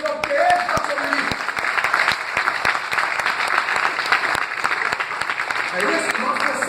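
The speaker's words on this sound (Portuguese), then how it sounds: "Bata palmas ao Senhor, porque Ele está sobre mim." A church congregation claps along during a Portuguese-language service, a steady rhythmic beat of many hands mixed with a broad wash of looser applause, close and loud, with faint voices underneath.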